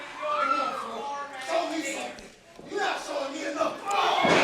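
A wrestling crowd at a Coastal Empire Wrestling event cheers and yells to fire up a wrestler who is back on his feet, a sustained roar that dips for a moment and then swells again.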